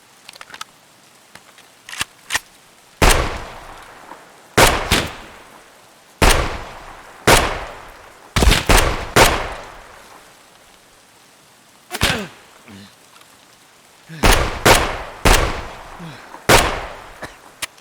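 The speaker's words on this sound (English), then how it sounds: "That's what we call suppressive fire." Suppressive gunfire in Escape from Tarkov, a video game: a long series of loud, sharp gunshots in irregular bursts, some single and some in quick clusters, each with a short echoing tail between quieter gaps.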